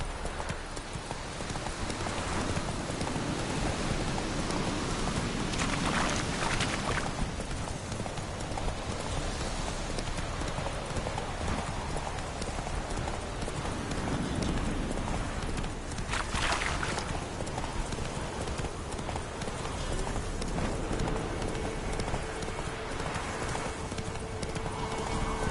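Roach, the horse in The Witcher 3, gallops steadily with rapid continuous hoofbeats over loud ambient game sound, sustained for nearly the whole stretch.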